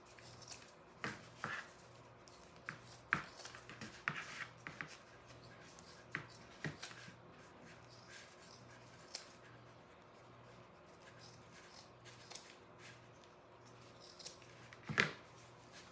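Scissors snipping through canvas fabric, quiet scattered cuts and rustles in a still room, with short clusters of snips and a louder crunch near the end.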